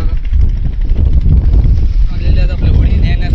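At sea, during a lobster fishing trip, a boat engine drones loud and close under heavy wind buffeting and water noise, while someone talks throughout.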